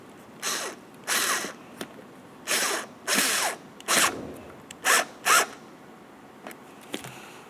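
Mounting bolts are driven into the plastic liftgate handle garnish of a 2004-2005 Scion xB, giving repeated short ratcheting, whirring bursts of about half a second each in an irregular sequence, close and moderately loud, with no talk.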